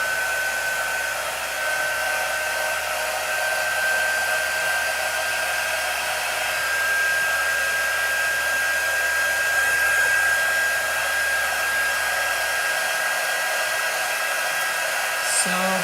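A hair dryer drying a freshly applied chalk transfer design runs as a steady, loud, continuous blowing whir with a faint high whine throughout, close to the mic, ending abruptly near the end.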